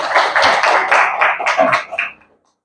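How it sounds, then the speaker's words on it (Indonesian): Students in a classroom clap their hands in a quick, loud burst of rhythmic claps, close by, lasting about two seconds before stopping abruptly into silence. "Silakan kasih tepuk tangan dulu"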